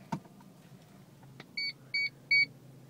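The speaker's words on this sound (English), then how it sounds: "it's a little scanner that beeps as you get closer to a vehicle" An aftermarket reverse parking sensor in a 2008 Vauxhall Astra estate gives three clear electronic beeps, evenly spaced and growing slightly louder, after a couple of soft clicks inside the car.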